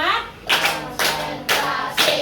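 A class of students claps in a counted rhythm, four distinct bursts of group clapping spaced about half a second apart, each a loud clustered smack followed by a brief lull.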